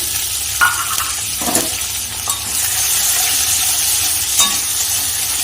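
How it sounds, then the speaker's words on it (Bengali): Ginger and cumin sizzle in hot oil in a pan, a steady close frying hiss broken by a few scraping stirs and light clinks of a utensil. "তেলটা গরম হয়ে গেছে আদা জিরেটা দিয়ে দেবো"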